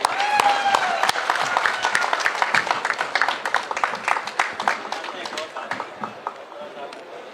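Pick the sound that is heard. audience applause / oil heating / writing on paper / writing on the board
audience applause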